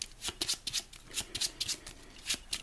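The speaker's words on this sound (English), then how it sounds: "I'll give it a shuffle." A deck of Marvel Champions cards is riffled and shuffled on a table, a quick run of crisp flapping bursts in an uneven rhythm, close and fairly quiet.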